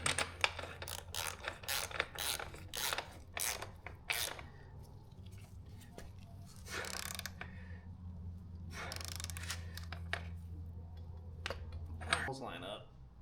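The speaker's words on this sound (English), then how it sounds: "Let's tighten this bolt up." Ratchet clicking while a bolt is tightened on a 2025 Kawasaki Z900 SE motorcycle, a quick series of close mechanical clicks followed by a few more later, over a low steady hum with a person talking.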